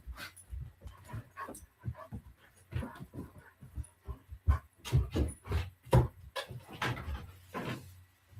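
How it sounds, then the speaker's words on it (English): A German Shepherd dog whimpers and pants repeatedly indoors, with short whines, panting breaths and small thumps coming in quick irregular bursts close to the microphone. "my dog wants to go outside."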